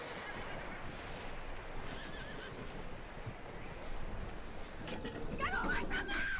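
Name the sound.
skittish horse whinnying, in the video game Red Dead Redemption 2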